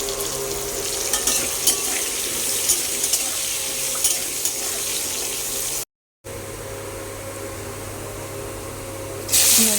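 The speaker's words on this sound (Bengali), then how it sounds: "ফুলকপিটা নাড়াচাড়া করে একটু ভেজে নেব আলুগুলো ভেজে নেব" Cauliflower and potatoes stir-frying in oil in a pan, a steady close sizzle with intermittent stirring clicks, broken by a brief silent cut before the frying continues.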